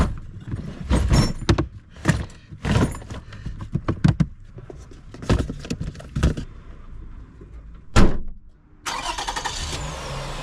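Tools clank and thud as they are loaded into a car's trunk, ending in one loud, solid slam of the trunk lid, followed by a softer rustling tail.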